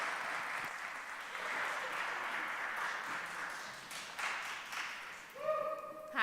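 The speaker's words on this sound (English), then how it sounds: "We clap until they get to the mic." A poetry festival audience applauds and cheers as a poet walks to the mic. The soft, steady clapping sounds distant and faint, and a few brief tones and voices rise near the end.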